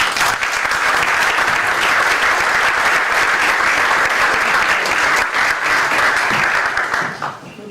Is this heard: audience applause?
yes